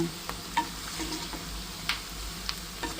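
Herbal oil with onion and black cumin bubbles in a pan, making a soft, low sizzle that carries on steadily with a few faint clicks and taps.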